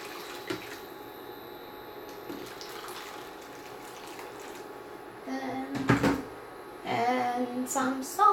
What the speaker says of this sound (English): what I usually like to do is that I put the water in here and I let them boil.